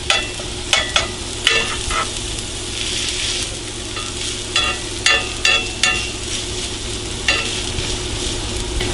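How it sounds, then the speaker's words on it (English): Shredded potato hash browns fry in butter and olive oil with a steady, close sizzle, broken by a series of sharp pops and scraping clicks of a utensil stirring and pressing in the pan; no talking. "So I need this to get that good fry when it hits"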